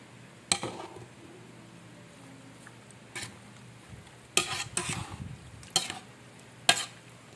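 Garlic powder and onion powder are stirred into a mix, heard as a few sharp utensil scrapes and clinks against a container, spaced out over a quiet background.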